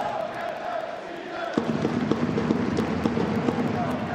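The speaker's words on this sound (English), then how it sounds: "The chant from the home crowd making themselves heard." Home crowd chanting at a Freiburg women's football match against Bayer Leverkusen, a rhythmic sung chant from the stands with drum-like beats, heard at a distance under commentary.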